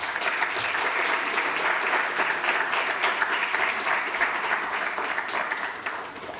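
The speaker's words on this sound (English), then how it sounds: "I invite you to all give them a very, very much a round of applause" Graduation ceremony audience breaks into sustained, loud applause, a thick even roar of many hands clapping that holds throughout and eases slightly at the end.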